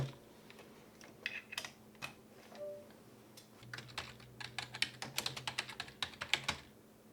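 Rapid clicking keystrokes on a USB computer keyboard, irregular bursts of close, crisp taps over a low steady hum, with a pause in the middle before a denser run of typing.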